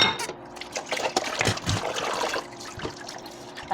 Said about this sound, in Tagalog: Hugasan natin siya.